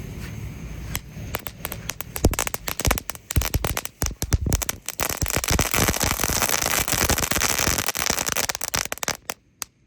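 Two packs of Roman candle fireworks lit at night crackle and pop in a dense rapid burst of sharp bangs, building to continuous sizzling crackles before cutting out abruptly.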